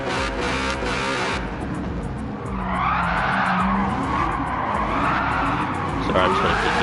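A GR3 race car drifting in a racing video game, tires skidding and squealing loudly over a revving engine, with a rising and falling screech through the middle and someone talking throughout.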